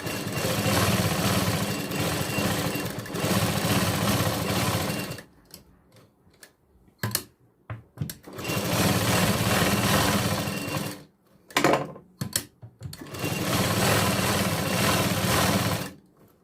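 A sewing machine stitches katori blouse fabric in three long, steady runs of loud, close mechanical whirring, separated by pauses filled with short clicks and brief handling sounds.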